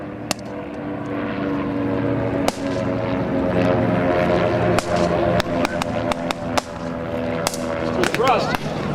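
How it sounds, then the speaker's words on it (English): Vintage Skyraider propeller planes launching at the Thunder Over Michigan air show's Vietnam battle reenactment, a loud continuous droning engine roar with sharp pops and bangs scattered through, a voice talking over it. "As we listen to the Skyraiders launch"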